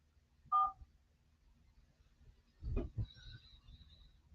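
A single short telephone keypad tone beeps once, pressing 4 on an automated voicemail menu, followed a couple of seconds later by a low thump and a faint higher tone, quiet overall.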